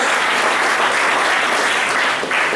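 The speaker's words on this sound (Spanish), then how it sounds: "Esas palmas son para el Cordero." A church congregation applauding during a worship service, dense, steady clapping from many people filling the whole stretch.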